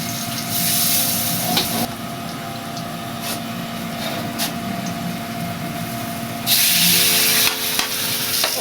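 Beef with lots of raw garlic browning in a pan for a stir fry, giving a steady close sizzle with a few clicks of stirring and a louder surge of frying near the end.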